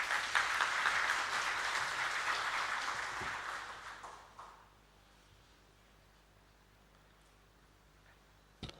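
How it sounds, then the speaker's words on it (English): Applause from an audience at a special lecture to Buddhist monks, moderately loud for about four seconds and then fading away into quiet room tone with a lone faint clap at the end. "Please applaud him."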